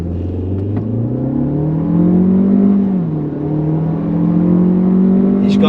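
A Skoda Kodiaq SUV accelerates at full throttle, its engine note climbing steadily and loudly from inside the cabin, dipping briefly at a gear change before rising again.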